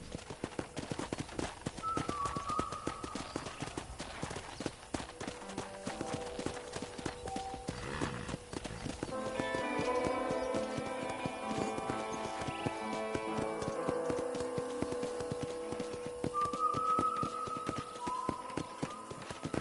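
Horse hooves clip-clop in a steady trotting rhythm throughout a ranch scene in the video game Red Dead Redemption, with an occasional whinny and a musical score swelling underneath.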